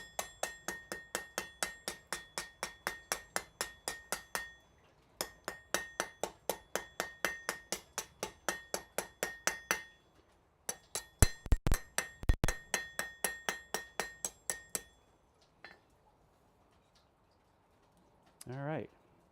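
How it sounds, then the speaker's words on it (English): Hammer blows ring off hot metal on a smithy anvil while a leaf is forged, fast even runs of bright metallic strikes broken by short pauses, a few heavier hits midway, then quiet with a brief closing sound. "I think I will switch to a smaller hammer just so I have a smaller face to get in with."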